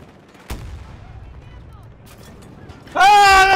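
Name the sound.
gunfire in the video game Battlefield 2042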